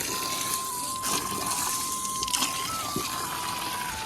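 Water runs from a village supply pipe fed by a dam in rural Nepal, a steady gushing flow close by with a thin whistling tone over it and a few faint knocks.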